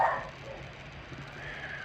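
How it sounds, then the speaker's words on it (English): Dogs give a short yipping bark at the start and then faint, whiny yelps in a room, over a steady low hum. "my idiot dogs."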